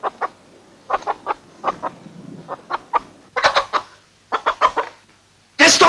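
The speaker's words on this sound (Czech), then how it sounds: "Či je to slepice?" Hen clucking in a series of short, rhythmic calls close by, with a louder burst at the end, heard within a school setting.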